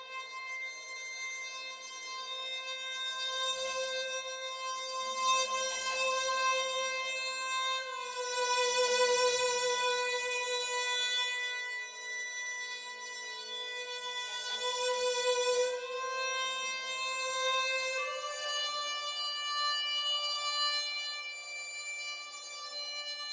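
Strings play sul ponticello legato with a damped, high-cut reverb, giving glassy, shimmering sustained tones that slide slowly between pitches with no percussion beneath.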